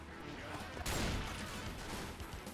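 Gunfire in the zombie shooter Left 4 Dead: a loud blast bursts in just under a second in, followed by a noisy, rumbling stretch of game action with voices talking over it.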